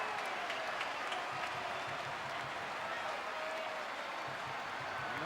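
A football stadium crowd applauds a goal during the 2011 Chicago Fire v Manchester United match, a sustained, distant wash of clapping and cheering with voices talking over it.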